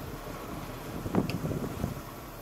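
Sailing yacht surfing down waves under mainsail in strong wind, a brief rushing water swell rising and fading under steady wind noise.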